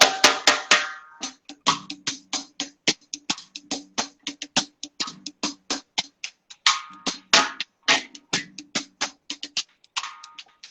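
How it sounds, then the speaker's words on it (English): Drums with a very high-pitched, tight snare and small simple toms play a busy reggae-flavored pattern of sharp, rapid hits with cymbal splashes, close and fairly loud, with no talking. "Yes, a very high snare drum, some small, simple toms"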